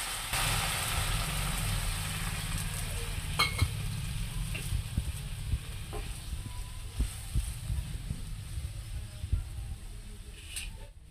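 About a cup of water is poured into a pan of fried ingredients for a Maggi noodle and egg dish, giving a soft, continuous sizzle with scattered clicks and scrapes of stirring, no talk.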